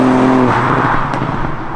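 A Ford Fiesta MK8 ST with about 200 bhp drives on a track in track mode, its engine giving a loud, steady roar heard close up and alone.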